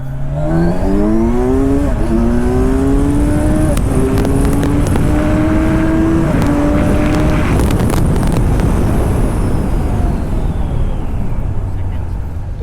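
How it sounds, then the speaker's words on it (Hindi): A Kawasaki Ninja 1000SX motorcycle, a 142 bhp bike, accelerates hard, its engine note climbing through several gears with short dips at each shift, loud and close, with steady wind rush throughout. "तो अब मैं आपको दिखाता हूँ जल्दी से इसका एक्सेलरेशन कैसा है।"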